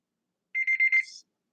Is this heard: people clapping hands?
no